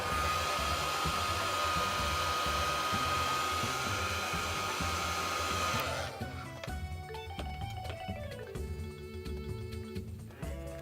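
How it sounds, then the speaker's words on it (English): Hair dryer blowing loudly and steadily for about six seconds, then cutting to a lower, uneven whir with faint clicks and tones as it winds down or is moved away, no voices. "The dryer isn't too loud?"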